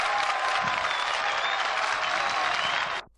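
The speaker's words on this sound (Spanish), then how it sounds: "Ocaña es aplaudido, no aparece cansado." A crowd applauds cyclist Luis Ocaña as he wins the Spanish championship race. Thick, continuous clapping and cheering fill the scene at steady loudness, then cut off sharply at the end.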